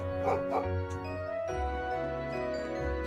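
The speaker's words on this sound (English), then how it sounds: "We love Badoo, the family dog." A dog barks a few times in the video game Trails into Reverie, short yips over steady background game music, close and fairly loud.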